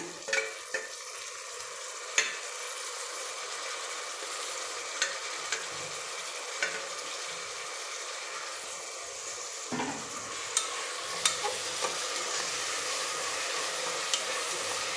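Tomato, green chili and curry leaves sauté in a hot pan with a steady sizzle, broken by occasional sharp clicks of a spoon scraping and stirring against the metal.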